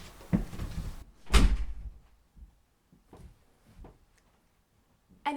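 Household door pushed shut, a sharp thud near the middle followed by a few softer knocks and rattles, then quiet; a brief earlier bump precedes it.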